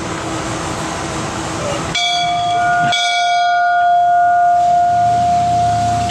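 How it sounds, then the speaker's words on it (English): A bell strikes once and its bright tone rings on and slowly fades, following a brief rumble of ambient noise. "Just like ringing a bell."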